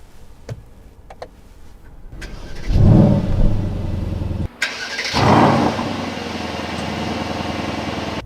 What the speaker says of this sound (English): We will put it into Sport Plus and we will start the engine.